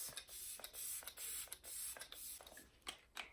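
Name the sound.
setting spray being sprayed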